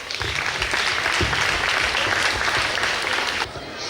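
A kindergarten graduation crowd claps in loud, dense applause that fills the space, then tapers off sharply near the end.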